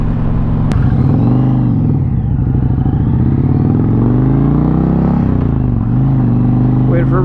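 An Indian Challenger motorcycle cruising a curving, hilly Minnesota road on a long road trip, its engine a loud continuous low rumble with shifting pitch as the rider changes speed, under heavy wind buffeting.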